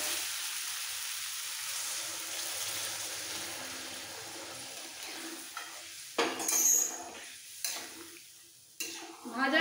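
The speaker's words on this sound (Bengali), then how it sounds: "এবার গরম জল দিয়ে দেবো।" Hot water poured into a pan of frying potatoes for an Indian alu potol dalna, with steady sizzling followed by sharp bursts of hissing and spoon scraping as the mixture is stirred, close and fairly loud.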